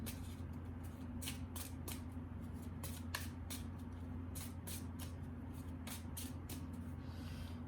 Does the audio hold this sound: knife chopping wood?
no